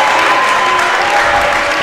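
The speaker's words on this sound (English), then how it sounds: "The crowd's loving it." A crowd cheers and claps steadily through a high school boys volleyball regional final between Oneida and Ichabod Crane, a dense, loud wash of applause and voices with no pause and no clear speech on top.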